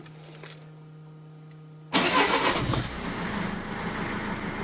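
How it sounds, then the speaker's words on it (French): After a faint jingle and a low electrical hum, a Mercedes car engine with replaced engine mounts cranks and catches abruptly, then settles into a steady, nearby idle. "Donc on entend bien le moteur qui tourne nickel."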